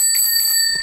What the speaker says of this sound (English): You get a Soviet bell.